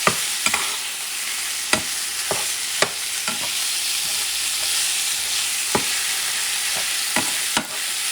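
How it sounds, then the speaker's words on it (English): Taco meat sizzling in a pan, a steady hiss close by with occasional sharp clicks and taps of a utensil breaking it up, no talking. "And I'm going to let this meat cook a little bit"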